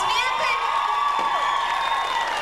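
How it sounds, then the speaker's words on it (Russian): A concert crowd applauds and cheers in a hall, a steady wash of clapping with whoops and high shouts running throughout. "Ваши бурные аплодисменты."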